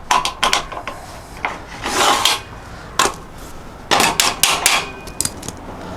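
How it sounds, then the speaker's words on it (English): Hammer tapping metal rollers onto sliding barn door hardware for a rustic post and beam garden barn, a series of sharp close knocks in short clusters with scraping between them. "Just use my hammer."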